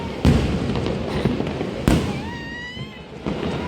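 Fireworks burst near the beach in Puri during New Year celebrations: sharp loud bangs at intervals, with crackling between them and whistling rockets rising partway through.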